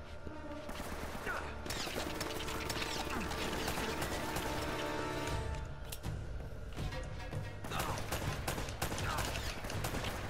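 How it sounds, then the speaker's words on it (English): Battlefield gunfire in the video game Uncharted, dense overlapping shots and rattling bursts running nearly nonstop, loud and close, with faint game voices mixed underneath. "I kinda like when there's people shooting at me This looks like a battlefield"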